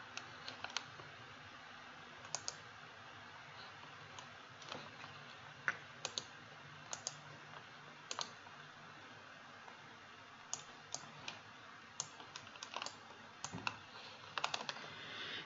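Computer mouse clicks while outlining a whale in photogrammetry measurement software, quiet sharp clicks spaced irregularly, some in quick pairs, over a soft steady background hiss.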